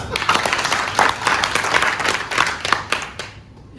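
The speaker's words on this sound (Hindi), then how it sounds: "एक बार जबरदस्त तालियां" Audience applause at a motivational speech event, a dense burst of clapping from a crowd that swells and then fades out within a few seconds.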